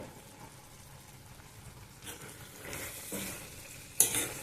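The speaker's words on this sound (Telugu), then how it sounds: "బాగా ఉడుకుతుంది." Brinjal and dried shrimp curry simmers and sizzles in a pan, a steady soft bubbling hiss with a few louder stirring scrapes near the end, no talk.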